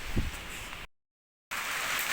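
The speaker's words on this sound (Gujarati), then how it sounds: "તો જો વરસાદ તો ચાલુ થઈ ગયો" Steady rain falling around a village house, a soft, even broadband hiss at low level that cuts out briefly to silence midway, then resumes.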